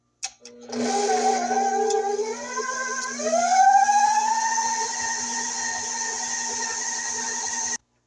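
Electric stand mixer on high speed beating sweet potato pound cake batter, a steady loud whine that rises in pitch as it speeds up, running alone for several seconds before cutting off.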